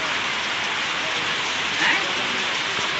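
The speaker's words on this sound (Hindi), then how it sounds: "देखिए नारायणपुर में आज बारिश पड़ रही है।" Steady downpour in Narayanpur, Bihar, India, a thick hissing wash of rain striking the ground nearby, unbroken for the whole stretch.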